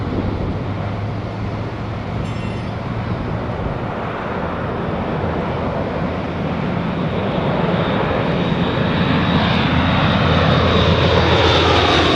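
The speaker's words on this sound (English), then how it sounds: "We have a C-130 inbound." Coast Guard C-130 Hercules turboprop engines roaring steadily during a fly-by, a loud continuous drone with strong low hum that swells slightly toward the end, with some wind noise.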